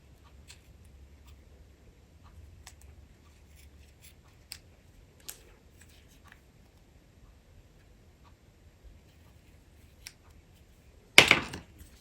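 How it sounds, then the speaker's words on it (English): Scissors trim excess from a 6-inch paper strip for a handmade card, a single sharp crisp snip near the end after faint ticks and near silence. "I'm going to trim off the excess."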